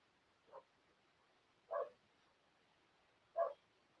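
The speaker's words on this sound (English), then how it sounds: "I hear one of the dogs barking out there." Distant dogs outside, likely a neighbour's, bark three separate times, faint and spaced about a second or more apart, with no talk over them.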